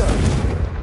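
A Confringo blasting spell explodes in Hogwarts Legacy gameplay, one short heavy booming burst, loud and close.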